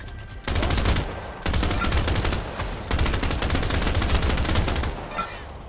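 Rapid bursts of automatic gunfire in a shooting video game, loud and dense, with rattling volleys broken by short pauses and a quieter tail at the end.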